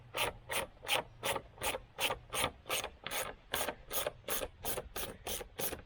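A screwdriver backs 8mm screws out of a car's air filter box hose, giving a steady series of rhythmic raspy ratcheting turns, about a dozen evenly spaced strokes, close and fairly quiet.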